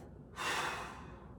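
One deep inhale during a fitness workout, a breathy rush that swells quickly and fades over about a second, close and fairly soft.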